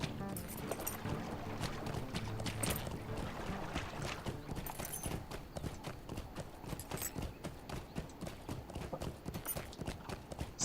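Horse hooves clip-clopping as a rider crosses a bog in the game Lord of the Rings Online, a rapid, even gallop of close, crisp hoofbeats running throughout over a faint wet ambience.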